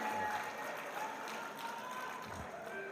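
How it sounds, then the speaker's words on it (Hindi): Audience at a mushaira poetry gathering in a college hall applauding, a short spell of moderately faint, continuous clapping with scattered crowd noise and a low murmur beneath. "भरपूर तालियों से इस बात का सबूत दीजिए"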